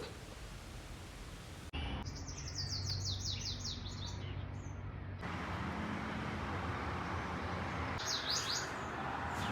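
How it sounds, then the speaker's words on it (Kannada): Faint high bird chirps repeat in quick series over a steady loud hiss of background noise. "ಚಿಲಿಪಿಲಿ ಅಕ್ಕಿಗಳ ಸೌಂಡ್ ಆಗಿರ್ಬೋದು"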